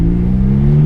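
Ferrari F430 engine held at a steady, loud rev for about a second, a continuous deep droning hum with no talk over it.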